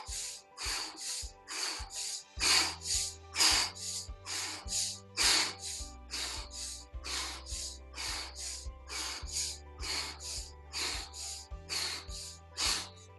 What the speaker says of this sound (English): So we're going to do 30 breaths.